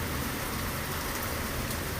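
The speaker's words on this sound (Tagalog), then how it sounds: "Ngayon naman, biglang umulan." Sudden rain falls during outdoor clearing work, a dense, even hiss of drops on surfaces, faint and constant with no other sounds.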